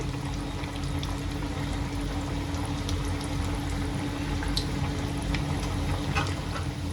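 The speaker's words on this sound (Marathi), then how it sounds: "चांगले एका साईडनी गोल्डन ब्राऊन पर्यंत मी चांगलं त्याला तळून घेते" Rava (semolina) vadas deep-frying in hot oil, giving a steady, even bubbling hiss with small crackles throughout, close and moderately loud.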